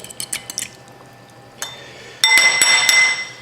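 A fork clinks against a glass or dish while stirring an olive oil and hoisin mixture, giving light scattered taps followed by a quick burst of brighter ringing clinks.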